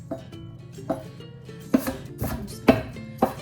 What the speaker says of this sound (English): Chop over it just to make it a little bit smaller than any of those big pieces.